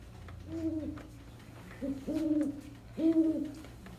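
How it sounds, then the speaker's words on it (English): Owl hooting in a theatrical stage setting, three low hollow hoots spaced about a second apart, moderately faint over a soft background hum. "What's that noise? It's only a bird, silly. It's an owl."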